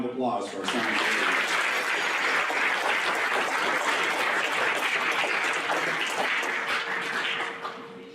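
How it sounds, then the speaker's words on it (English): A school-hall audience at an eighth-grade awards program breaks into sustained, dense applause for several seconds, loud and even before tapering slightly at the end. "A round of applause for our science leaders."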